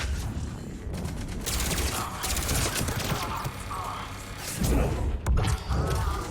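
An automated turret fires in Rainbow Six, producing dense mechanical clattering and ratcheting bursts that swell and drop over several seconds, with brief speech mixed in.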